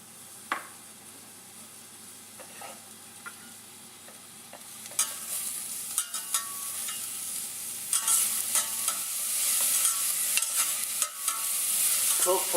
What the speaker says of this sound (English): Cook for around 2 to 3 minutes until the onion is slightly golden and the carrot is cooked.